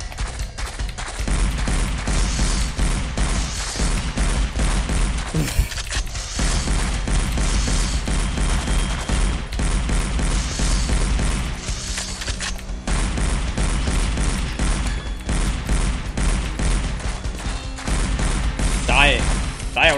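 Gunfire in the video game SiN: Wages of SiN, dense continuous shooting with thumps and mechanical clatter over a steady loud game soundscape, with someone talking at times over the action.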